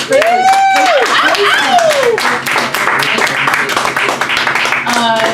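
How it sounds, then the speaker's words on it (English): Audience at a salon lounge event giving a round of applause, close, brisk clapping mixed with cheering voices and whoops rising over it. "Round of applause for the wow."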